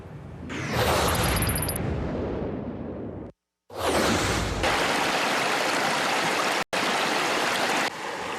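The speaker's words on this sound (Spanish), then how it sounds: "Entre el murmullo del río Arajuno y el grito de los monos ardilla" Murmur of the Arajuno river in the Amazon, a steady broadband rush of flowing water heard close and loud, briefly cut off twice, with no voices.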